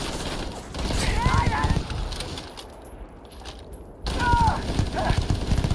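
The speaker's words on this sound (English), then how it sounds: "He was over there trying to shoot Ghost" Modded guns fire in the video game Starfield, with rapid bursts of gunfire and clattering game effects at moderate volume, broken by a brief quieter gap, with faint voices now and then.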